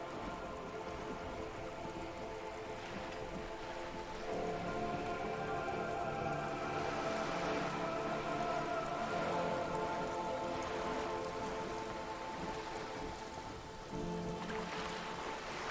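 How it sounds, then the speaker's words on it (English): Steady rain in the Disco Elysium video game pattering on wooden boards and on surrounding water, a constant, moderately loud hiss of drops with faint tonal ambience beneath and no voices. "All around you, rain keeps falling down. On the wooden boards she's standing on, and on the water around you."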